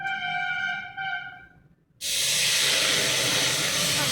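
Water poured onto hot jaggery in a wok bursts into a loud, steady sizzling hiss after a brief moment of quiet, covering a faint tonal hum heard beforehand.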